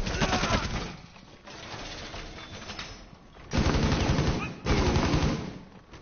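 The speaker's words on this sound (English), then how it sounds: "But they're shooting through the wall." Gunfire crackles through a wall in the Rainbow Six Siege video game, with dense bursts of rapid shots that swell loudly in the second half over a continuous noisy game backdrop.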